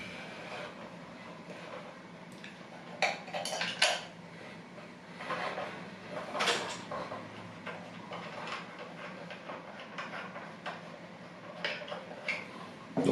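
Metallic clicks, taps and light clatter from the lid screw and parts of a Seb Clipso pressure cooker being fitted by hand, irregular and close, without talk.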